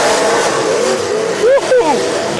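A demolition derby car's engine roars and revs loudly and continuously at a 2020 derby event in Mobridge, with announcers talking over it throughout.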